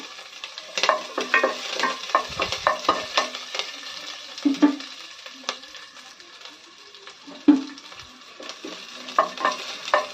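Slit green chillies dropped into a hot pan and frying, with a bright crackling sizzle and frequent scraping stirs and clinks of a spoon against the pan, close up and without talk.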